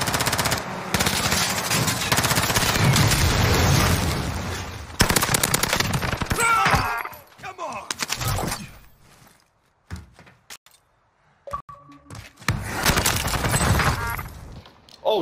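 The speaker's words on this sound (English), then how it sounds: "I'm getting shot at." Dense automatic gunfire from the video game Call of Duty: Warzone, loud sustained bursts through the first half, then scattered shots and brief pauses before another heavy volley near the end.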